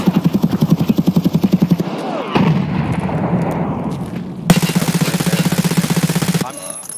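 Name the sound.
gunfire in the video game Escape from Tarkov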